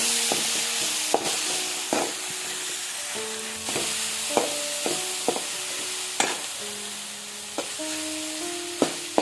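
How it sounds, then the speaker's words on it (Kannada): Chopped tomatoes fry with onions in a pan for tomato sambar, hissing steadily under sporadic sharp stirring clicks, while a tonal melody of sustained notes plays alongside; no speech. "ಇದನ್ನು ಚೆನ್ನಾಗಿ ಫ್ರೈ ಮಾಡ್ಕೊಂಡು ಸಾಫ್ಟ್ ಆಗಬೇಕು ಟೊಮೊಟೊ ಎಲ್ಲ"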